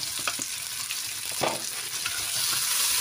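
Prawns hit a hot pan for arroz meloso with garlic, giving a steady close sizzle and frying crackle with stirring scrapes throughout, loud and unbroken, no voices.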